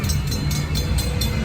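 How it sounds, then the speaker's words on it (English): Theme park train at Fiesta Texas rolling past close by, a loud steady rumble with a low hum and periodic bright clanks from the wheels, no talking. "train's coming"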